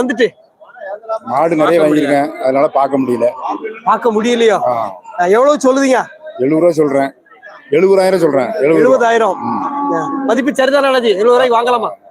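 Cattle at the Melapalayam cattle market give several drawn-out lowing moos in close succession, loud and near, with people talking among them.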